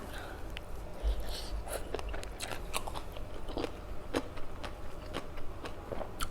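Crunchy chewing of fried pork eaten with papaya salad, close to the mic, with repeated crisp bites and crackly mastication in an irregular rhythm over a low background hum.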